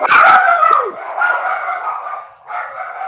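A dog barking and yipping indoors, a couple of sharp close barks followed by a whining, whimpering tail, loud and alone with no talk.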